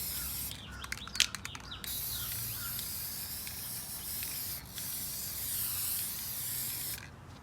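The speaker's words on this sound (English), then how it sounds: "I'll give them a little spray and put them back in the garden." Short bursts of aerosol protective sealant sprayed on garden rocks, a cluster of quick hissing puffs early on followed by a few longer sprays, with faint birdsong in the background.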